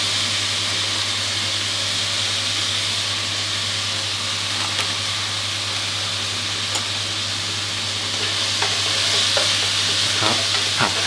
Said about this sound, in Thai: ผัดให้เข้ากับหมูทั่วเลยครับใช้ไฟแรงได้เลยนะครับ